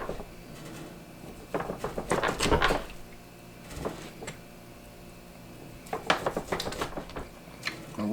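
A knife chops cooked chicken on a cutting board, making clusters of quick, close taps and knocks in two main bursts separated by quieter pauses.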